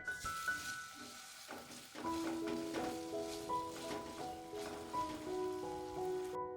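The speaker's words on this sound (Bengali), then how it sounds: "এবার কাঁচা লঙ্কা আর আদাটাকে একটু ভেজে নিচ্ছি যতক্ষণ না আদার কাঁচা গন্ধটা চলে যাচ্ছে" Green chilies and grated ginger sizzle in hot oil in a pan, a steady crackling fry under a faint background of music-like tones, no talking.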